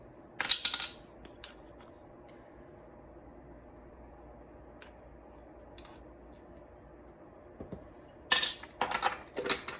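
A ground meat separator works taco seasoning into cooked ground meat inside an Epicure multipurpose steamer, with short bursts of clinking and scraping near the start and a busier clatter near the end, separated by near silence.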